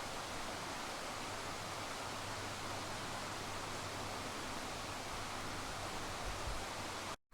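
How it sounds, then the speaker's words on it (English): Burbage Brook rushes through Padley Gorge in the Peak District, a steady, close, full-bodied wash of flowing water that holds constant for several seconds with no voices. "we've got the brook"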